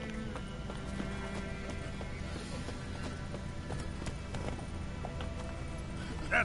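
Horse hooves clip-clop at a steady walking rhythm in the Witcher 3 video game, moderately loud under a constant bed of game ambience.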